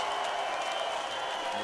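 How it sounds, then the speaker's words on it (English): Steady crowd applause at a bare-knuckle heavyweight fight fills the space, a dense wash of clapping with no pauses, moderately loud throughout. "let's have a round of applause for these 2 heavyweight warriors."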